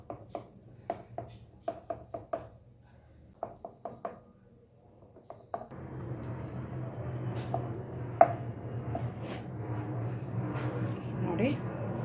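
Junka, a set gram-flour dish from North Karnataka, being cut into pieces with an oiled ladle: a string of soft knocks and taps, then a denser run of scraping and knocking.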